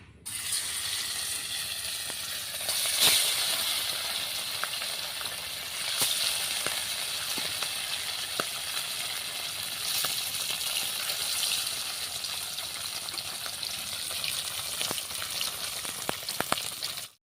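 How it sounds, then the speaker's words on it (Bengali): Steady, dense sizzling of fish frying in hot oil in a wok, with occasional sharp crackles and pops throughout; no voices. "এবারে আমি কড়াইয়ের মধ্যে মাছগুলো দিয়ে দিচ্ছি।"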